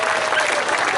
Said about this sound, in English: let's have a big round of applause for Lenny